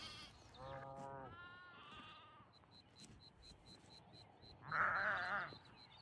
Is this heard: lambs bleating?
yes